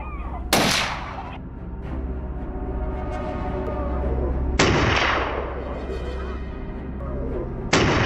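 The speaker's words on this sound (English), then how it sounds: "Gunfire once again stirred the forest" Rifle shots ring out in a forest during a wild boar hunt on farmland, three sharp loud cracks spaced a few seconds apart, each followed by a rolling echo over a low rumbling background.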